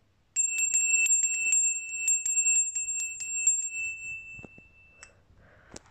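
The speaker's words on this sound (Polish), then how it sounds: "Później jest dzwon Maria." A small bell named Maria, from Częstochowa, rings in a quick, uneven series of bright strikes with a sustained ring, close and clear, tailing off into a few low knocks and rustles.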